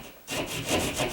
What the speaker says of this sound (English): I got my little drywall saw